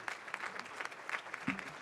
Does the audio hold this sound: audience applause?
yes